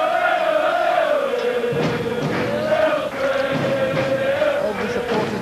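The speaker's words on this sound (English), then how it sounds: "All the supporters below are still making" Football supporters make steady crowd noise throughout at Victoria Park, Burscough, during an FA Trophy semi-final second leg against Aylesbury United, a continuous roar with one sustained tonal voice riding over it.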